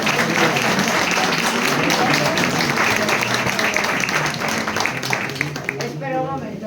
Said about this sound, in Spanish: con un gran aplauso paso la palabra.